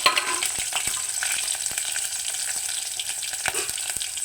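Mustard seeds, cumin, onion and green chili frying in hot oil for an eggplant and mango curry, a close continuous sizzle broken by small crackling pops and spoon taps, no voices.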